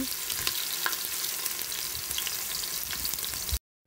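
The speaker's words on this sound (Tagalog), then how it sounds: "Bali piprituhin ko muna yung hotdog bago yung ilagay ko yung sibuyas at bawang." Hotdogs fry in a pan with a steady, dense sizzle and crackle, with occasional spatters, close and fairly loud, continuing without pause before cutting off abruptly near the end.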